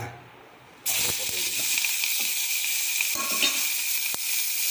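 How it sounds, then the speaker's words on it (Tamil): Chopped capsicum frying in a little oil in a pan at home, a steady loud sizzle starting abruptly after a brief quiet moment and continuing with occasional soft stirring clicks. "இதை கொஞ்சம் ஃப்ரை பண்ணிடலாம் கொஞ்சோண்டு தான் எண்ணெய் ஊற்றணும்"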